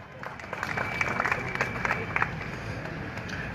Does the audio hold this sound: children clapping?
yes